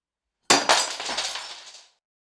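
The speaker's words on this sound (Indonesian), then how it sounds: "Zain menepis gelas miliknya hingga jatuh dan pecah." A drinking glass is knocked over and falls, smashing with a sharp crash followed by about a second of tinkling, scattering shards, heard alone and close.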